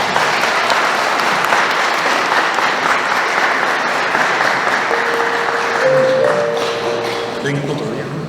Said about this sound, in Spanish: Un fuerte aplauso para nuestros hermanos.